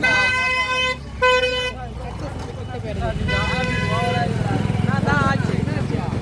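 Busy street traffic in Cheyyar during Pongal trade, with engines droning, motorcycles and auto-rickshaws passing and a couple of sustained horn blasts near the start, while someone speaks briefly.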